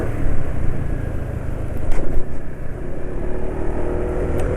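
A motorcycle engine running on Petro Canada Duron HP 15W-40 oil runs steadily with a low rumbling idle, close by, with slight fluctuations in pitch and no talking.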